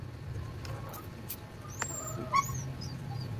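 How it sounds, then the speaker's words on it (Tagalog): A dog whimpers and yips faintly in a few thin, high cries over a steady low background hum, close by during a home meal. "Hingay ng aso."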